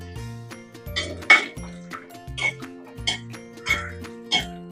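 Metal spatula clinks against a pan while shallots are stirred in hot coconut oil, several sharp taps in a loose rhythm over steady tonal music.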